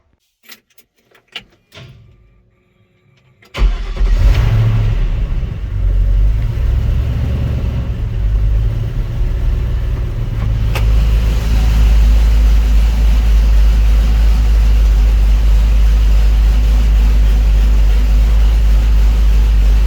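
A few clicks and knocks, then a heavy truck engine starts and settles into a loud, steady low rumble that continues close up to the end.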